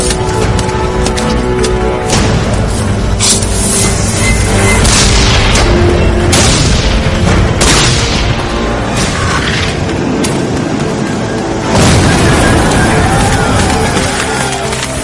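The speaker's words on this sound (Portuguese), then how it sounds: "Um saco de pólvora explodia e impulsionava uma bala de canhão de 5 quilos de ferro maciço a mais de 400 metros por segundo." Gunpowder cannon blasts from a Civil War battle scene at Gettysburg boom loud and close, several heavy explosions rolling across a dense, constant roar.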